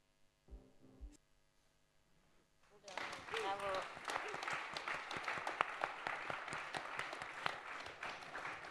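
Audience applause at a conference-debate on forests and climate breaks out after a brief quiet stretch with a few faint voices, then continues as dense, sustained clapping through to the end.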